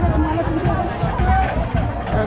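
A dense crowd murmurs at the Kelba Devi temple fair, with packed stalls and many overlapping voices forming a steady, close hubbub.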